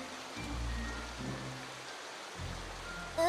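Cartoon rainfall: a steady, soft hiss of falling rain running throughout, with low rumbling tones under it and a brighter splash at the very end.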